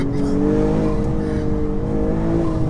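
A tuned 450bhp BMW M240i xDrive roars steadily and loudly, its deep throaty intake drone swelling slightly as it accelerates, close by and continuous throughout.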